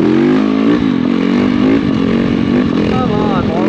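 A Yamaha YZ450F dirt bike roars loudly and continuously while ridden off-road, the engine revving and shifting pitch close to the microphone.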